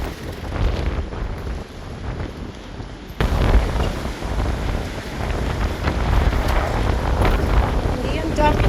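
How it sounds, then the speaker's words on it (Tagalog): Strong wind in the UK roars and buffets the microphone throughout, growing louder partway through, with indistinct voices underneath. "Grabe yung hangin."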